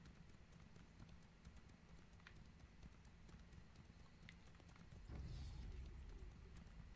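A horse gallops in The Elder Scrolls Online, its rhythmic clip-clop hoofbeats steady and fairly close, turning heavier and louder for the last two seconds, with no talking.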